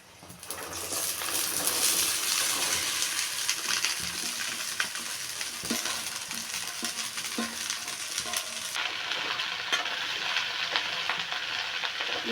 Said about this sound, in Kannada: ಬೆಂಡೆಕಾಯಿ ಒಂದು ಸ್ವಲ್ಪ ಹಸಿ ಸ್ಮೆಲ್ ಹೋಗೋ ಥರ ಸ್ವಲ್ಪ ಎಣ್ಣೆಯಲ್ಲಿ ಫ್ರೈ ಮಾಡ್ಕೋಬೇಕು ಫ್ರೆಂಡ್ಸ್